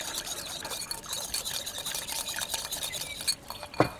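Olive oil, lemon juice and garlic being whisked into a dressing, a steady close scraping and swishing of the whisk against the bowl, with a couple of sharper clinks near the end.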